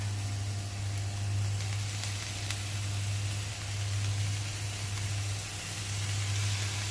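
Dory fish hits hot oil with stir-fried aromatics for a basil stir-fry, making a steady, loud, close sizzling hiss that barely changes throughout, over a low hum.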